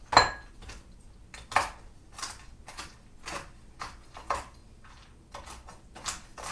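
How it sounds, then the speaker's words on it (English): Toasted almonds being rough chopped with a knife on a board, a loose series of crisp, uneven cutting knocks close by, with no talking. "Just give them a little rough chop."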